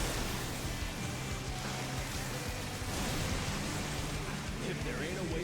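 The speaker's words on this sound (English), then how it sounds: "Good gods, what an enormous rain!" Heavy rain in the video game Final Fantasy XIV, a dense, steady wash of downpour at constant loudness throughout with no breaks.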